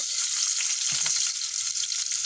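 Onion sautéing in a pan with ginger for sinigang, giving a steady, close hiss of frying with a brief stirring clatter near the middle; no talking.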